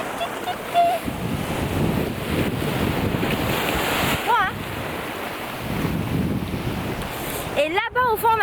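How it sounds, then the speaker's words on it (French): Steady wind buffets the microphone on a small beach in Senegal, with surf rushing and washing ashore beneath it and a few faint voices briefly audible. "on est dans la petite plage"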